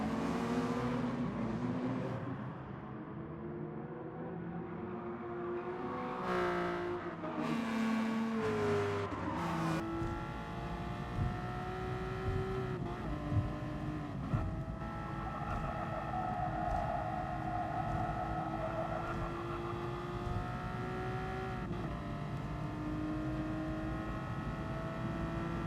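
Race car in the GT Sport video game driving through a series of corners: a continuous engine drone that rises and falls with braking and acceleration, with shifting pitch and occasional tire noise, no talk.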